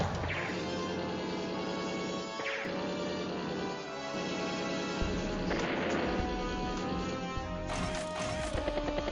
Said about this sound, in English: Missile anti-air. Takes out the battlecopter there.